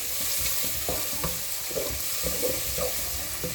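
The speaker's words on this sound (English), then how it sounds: "Fry the onion very well. Very well. Very well. You have to fry it very well." Onion fries in a pan for a Nigerian meat pie filling, a dense continuous sizzle with faint scraping stirs underneath, close and steady throughout with no talk.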